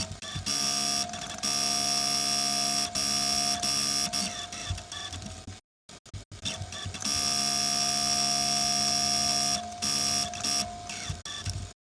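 A sewing machine stitches sleeves into a handmade girl's dress, a steady loud mechanical whirring run that pauses briefly midway before resuming and then stopping.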